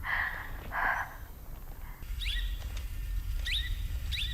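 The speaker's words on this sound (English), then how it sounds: "the bird is freaking out" Agitated bird calls from the film Arrival: a pair of harsh, snorting bursts up front, then a series of sharp, high chirps repeating over a low rumble, fairly close and loud.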